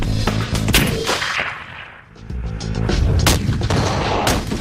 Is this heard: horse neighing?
no